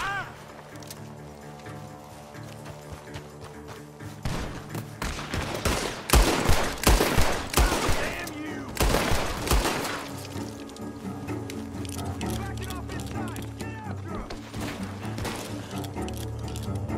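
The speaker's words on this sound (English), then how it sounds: "Gunshots are coming from that barn!" Gunfire in the video game Red Dead Redemption 2 at a barn, with a rapid volley of shots building and peaking midway, then fading under game music and ambience.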